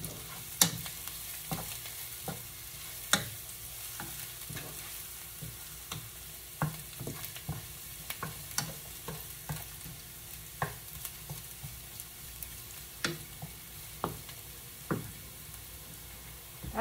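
Garlic fries in oil until golden brown for menudo, with a steady soft sizzle broken by frequent sharp taps and scrapes of a spatula stirring the pan, heard close and without talking.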